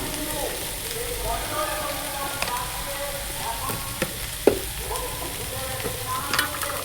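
Spices with ginger, tomato, turmeric and chili powder fry and sizzle steadily in oil, with faint stirring scrapes and a few sharper clinks of a spoon against the pan.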